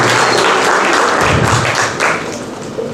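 Audience applause for actor Aakashjeet Singh at a theatre festival in Ambala, a dense burst of clapping from a crowd that stays steady, then thins slightly toward the end.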